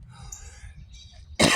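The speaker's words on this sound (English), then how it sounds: "I know I am coughing a lot" A single sharp cough bursts out loud and close at the very end, following a stretch of quiet low background murmur.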